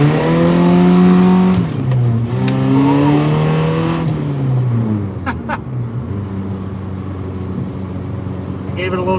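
A drift truck engine revs and drones loudly on a wet road at night while the truck slides, its worn-bald front tires struggling for grip; the pitch swoops up and down with throttle, then settles into a steadier rumble.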